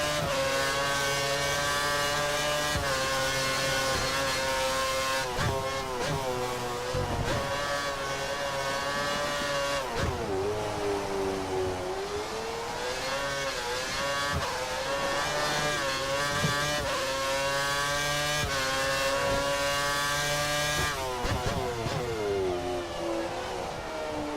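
Formula 1 race car engine in the F1 2013 video game at Shanghai on a wet track with little grip, a loud continuous whine that rises and falls through gear changes and revs as the car slides wide, with no talking.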